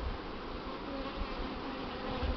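Buckfast honeybees swarming from a large colony at the hive give a dense, continuous buzzing hum that stays steady and fairly loud throughout, with no voices.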